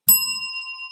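A single bright bell ding rung as a welcome, loud and close, its metallic tone ringing out clearly and fading slowly with nothing else around it.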